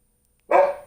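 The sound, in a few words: dog barking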